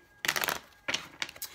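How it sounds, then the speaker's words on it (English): Tarot cards are shuffled in quick, close bursts of riffling and slapping: one longer run, then two shorter ones, with no talk. "Two more shuffles."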